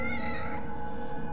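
A cat meows inside the horror video game The Evil Within, a short voiced call heard close against a steady low background drone.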